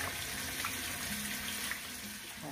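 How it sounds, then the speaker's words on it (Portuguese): Running tap water rinsing papayas in a sink, a steady splashing hiss of faucet flow over fruit, continuous and fairly close, with no talking. "Bastante água corrente,"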